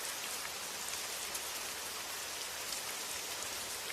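Steady rain falls throughout, a dense, even wash of drops on surfaces with no voices or other sounds.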